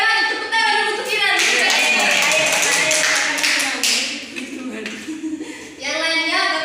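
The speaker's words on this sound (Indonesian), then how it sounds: "tepuk tangan dulu untuk Ira" Schoolchildren in a primary classroom clapping for a classmate named Ira, a burst of rhythmic group hand claps with children's voices and a teacher speaking at the start and end.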